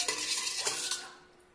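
A spoon stirring a dough mixture of water and dry yeast in a bowl for Turkish lahmacun, giving a few quick scraping, clinking strokes that fade out at the end, with no talk.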